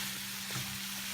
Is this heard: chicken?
yes